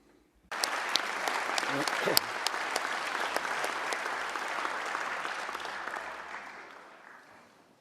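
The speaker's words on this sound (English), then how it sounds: "and applaud you." Parliament members break into applause during a session marking 80 years since the end of World War II in Europe; clapping bursts in after a short quiet, swells, then gradually fades away.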